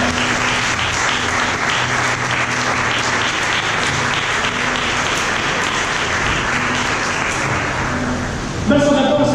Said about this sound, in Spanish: Yo quiero que le dé fuerte un aplauso al Señor.